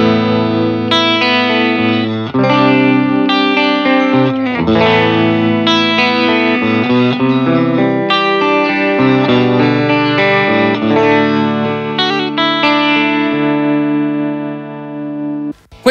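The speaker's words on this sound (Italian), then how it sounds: "Questo era il canale normal in entrambe le varianti, con gli alnico blu" Electric guitar played through a Vox AC30C2X amp on the normal channel with Alnico Blue speakers, ringing chords and melodic lines with slight grit, loud and close, with no talking.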